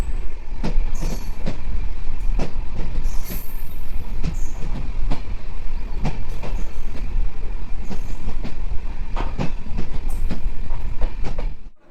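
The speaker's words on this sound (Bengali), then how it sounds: "আমাদের ট্রেন এই মুহূর্তে এসে পৌঁছেছে গঙ্গারামপুর স্টেশনে" Farakka Express 13413 slowing into Gangarampur station, a loud, steady rumble of rolling wagons with rhythmic clickety-clack wheel beats, brief metallic squeals and a continuous low roar throughout.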